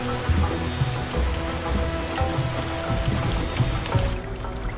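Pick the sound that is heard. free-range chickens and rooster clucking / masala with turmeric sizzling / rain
rain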